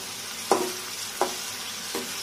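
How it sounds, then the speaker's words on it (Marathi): Onions sauté with ginger-garlic paste in a pan, a continuous close sizzle broken by three evenly spaced scraping strokes of a spoon stirring through the mixture. "आता या कांद्यावर आपण 1/2 चमचा आलं लसूणची पेस्ट टाकून घेऊया आणि ती सुद्धा चांगली"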